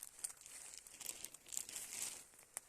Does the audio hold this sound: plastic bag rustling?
yes